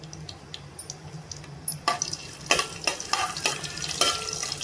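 Cut green chillies hit hot tempering oil and fry, a quiet hiss that jumps into sharper spattering crackles and stirring scrapes, close and unbroken.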